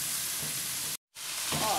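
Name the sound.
beef searing in a pan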